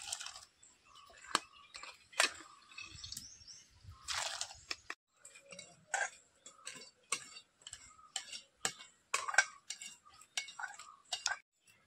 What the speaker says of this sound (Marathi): मी आता ह्याच्यात डाळ घालून घेते